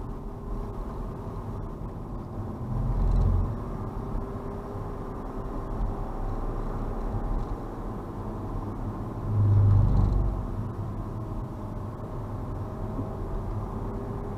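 A 2007 BMW X3 3.0 SD held in second gear at around 35 with a vibration fault: a steady low cabin drone and road rumble, swelling twice into heavier low throbs, with no talking.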